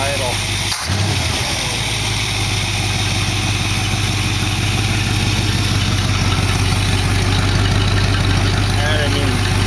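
A 1914 car engine runs at high idle with a steady, even chug that stays constant throughout, close and loud, with a brief knock near the start.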